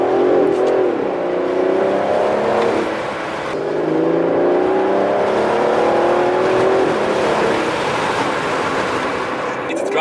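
Aston Martin DB11 V12 accelerating hard in first gear on a wet road, its engine note climbing in repeated rising sweeps through the gears, loud and close from inside the car, with a voice talking over it.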